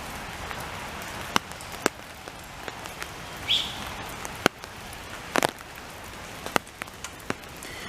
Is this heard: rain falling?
yes